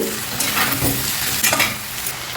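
Capsicum pieces fry and get stirred in a pan for a capsicum and potato curry, giving a steady close sizzle broken by a few scraping stirs, with no talking.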